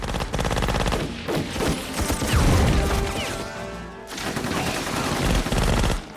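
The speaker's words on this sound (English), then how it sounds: "A full-scale gunfight erupts." Rapid gunfire crackles through a full-scale gunfight in a film scene, dense bursts of automatic shots and crashes with a brief lull before the shooting surges again.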